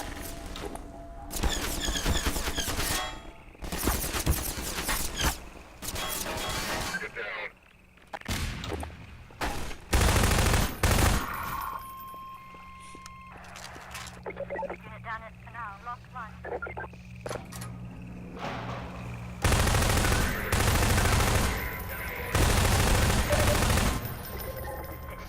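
Bursts of automatic gunfire and single shots in Half-Life 2, loud and close, arriving in clustered volleys with pauses between, with someone talking over parts of it.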